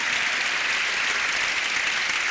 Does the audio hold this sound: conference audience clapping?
yes